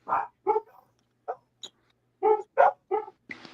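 Dogs barking in a series of short separate barks, about eight over a few seconds, close and moderately loud, with quiet gaps between them and no talking.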